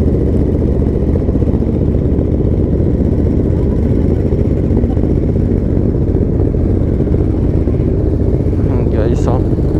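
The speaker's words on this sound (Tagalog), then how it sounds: "Cold start na tayo. Burn na natin yung mga motor." Several motorcycle engines run from a cold start and warm up together, a loud, steady, close rumble throughout, with a brief voice near the end.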